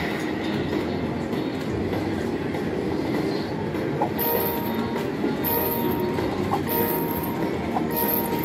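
Train rumble and clickety-clack sound effects from a casino slot machine's train bonus feature, playing steadily and loudly amid the busy hum of a packed casino floor.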